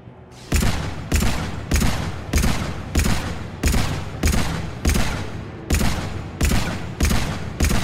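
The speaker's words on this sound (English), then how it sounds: "Shooting the air so you know." Single gunshots fired into the air in Mass Effect 3 crack out loud and close, about eleven evenly spaced blasts, each with a short decaying tail, with almost no talk.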